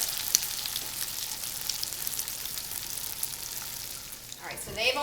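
Crab cakes frying in oil in a pan, a steady close crackling sizzle throughout, with a brief shift in the sound near the end as something moves in the pan.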